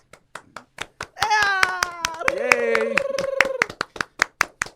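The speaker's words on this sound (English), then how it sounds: "Stop clapping." Hands clap sharply and rhythmically in a podcast studio, starting steadily, breaking while voices exclaim and sing out, then resuming in a regular beat.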